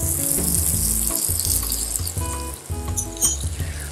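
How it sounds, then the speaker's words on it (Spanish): Porcini mushroom stems frying in a hot pan give a steady, loud sizzle with crackling and occasional stirring clatter, close up, with no talking. "ahora que ya está caliente la sartén, ponemos también los bastones de hongos, del tallo de los hongos"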